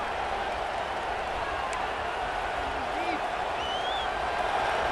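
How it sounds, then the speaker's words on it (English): Simulated stadium crowd in a college football video game, Michigan State against Arizona, a steady dense roar holding evenly throughout at moderate level with faint whistle-like tones on top. "The roar of the crowd trying to fuel this defense to keep them pinned in their own end."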